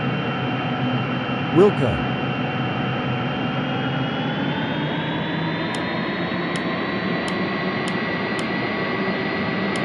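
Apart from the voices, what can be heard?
Boeing 777-300ER jet taxiing to the gate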